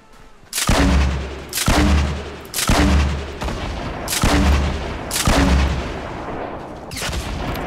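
A grenade launcher fires repeatedly in Fortnite at someone inside a base, giving six heavy booming shots at roughly one-second intervals, each with a deep thump and a long echoing tail, loud and close.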